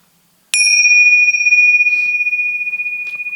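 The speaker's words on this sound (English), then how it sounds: "we're going to ring the bells 11 times" A bell is struck once, loud and clear, its pure metallic tone ringing on steadily and fading slowly with a gentle pulsing shimmer.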